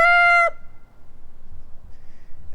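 The loud, strained end of a rooster's crow at a chicken coop cuts off after half a second, leaving faint low background noise.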